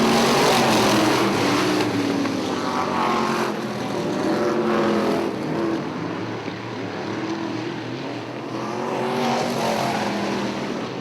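IMCA modified race cars roar around the Ionia Raceway Park oval, several engines loud and continuous with rising and falling passes as cars accelerate out of the corners, a 33 car among them.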